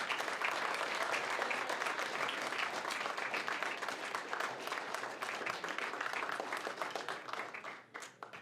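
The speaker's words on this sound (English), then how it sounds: "Give him an applause." Conference audience applauding steadily for several seconds, a dense wash of many hands clapping that thins out and fades near the end.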